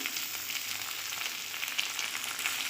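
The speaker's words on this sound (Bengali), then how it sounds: "এটা একটুখানি ভেজে নেব" Chopped tomato fries in a hot pan with onion, a continuous bright crackle with occasional pops, close and fairly loud.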